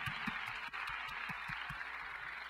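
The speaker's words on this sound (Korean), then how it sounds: "우리 찬양과 기도 받으신 주님께 한번 영광의 박수를 내겠습니다" Korean church congregation giving applause to God after worship and prayer at a mission conference, faint, scattered clapping with soft distinct hand claps over a quiet room.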